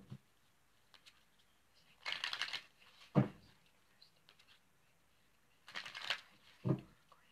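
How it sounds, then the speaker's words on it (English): Tarot cards are shuffled in two quick riffling bursts, each followed by a soft tap as the deck is squared, close and fairly quiet with no talking. "Just saying a quick little prayer as I shuffle up here."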